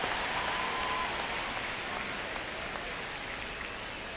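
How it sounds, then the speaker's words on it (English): A baseball crowd at Dodger Stadium gives a steady, dense wash of noise and murmur, broad and continuous like distant applause, with no clear voices standing out. "Just underway, crowd getting settled here at Dodger Stadium."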